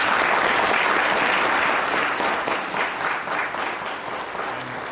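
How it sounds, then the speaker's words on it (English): An audience at a congressional debate competition claps in a sustained, dense round of applause that starts loud and slowly thins out. "I think we should give one more round of applause"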